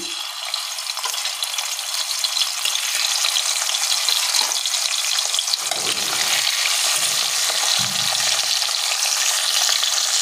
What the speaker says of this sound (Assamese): মই ভাজি ল'ম।